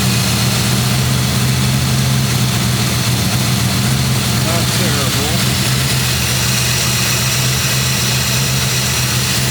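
A car engine idles in park, close and loud, with a steady low rumble throughout and a short spoken comment over it.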